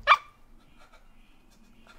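A dog gives a single sharp bark close by at the start, followed by quiet rustling and faint background noise.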